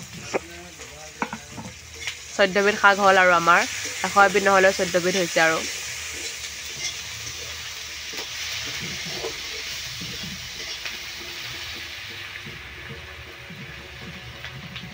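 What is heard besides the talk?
frying finely chopped greens (fourteen kinds of leafy vegetables)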